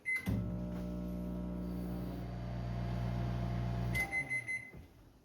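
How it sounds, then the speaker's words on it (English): A microwave oven drying chiles hums steadily for a few seconds, then a bright beep sounds as it stops, followed by a few soft clunks. "then it'll dry in the microwave."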